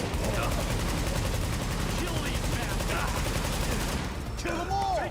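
Rapid automatic gunfire in The Division 2 video game, dense continuous bursts of shots filling the whole stretch, with shouted voices mixed in near the end.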